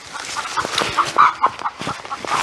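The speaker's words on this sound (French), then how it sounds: "Bon, les poules vont bien." Chickens cluck in a spring garden, a run of short, soft, close calls in a loose rhythm with faint outdoor background.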